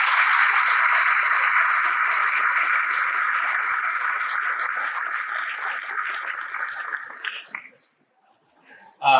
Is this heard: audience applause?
yes